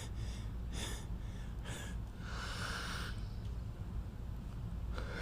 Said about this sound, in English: It was like a sneeze that got killed by a yawn.